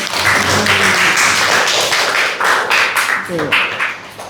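Classroom applause for a student fills the space, a dense burst of many hands clapping close by, with voices mixed in as it tapers off.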